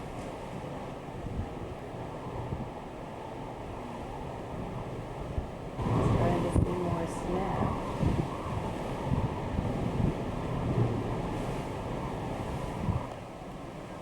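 Gusty wind roars outdoors in Alaska near snow and a waterfall, a steady rumble that surges louder midway, with someone briefly speaking over it.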